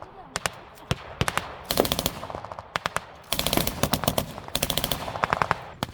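Machine gun fire in a reenacted World War II battle at Nyvang, Denmark, with rapid, irregular bursts of sharp, loud shots and brief pauses between volleys.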